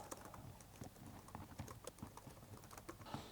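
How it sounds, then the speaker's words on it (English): Quick, light clicking of fingers typing on a computer keyboard, an uneven run of soft taps close by and fairly faint, with no talking. "I can just start typing and press Enter to send"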